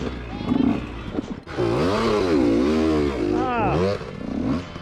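A 2021 Triumph Tiger 850 Sport motorcycle engine revs up and down in close, loud swells, with a rider's voice heard briefly in the clip.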